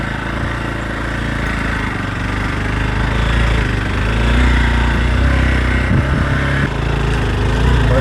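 A motorcycle rides the rough road to Sadhutar near Sandakpur, its engine a loud, close, continuous drone that swells slightly in the middle, with a few bumps and rattles toward the end.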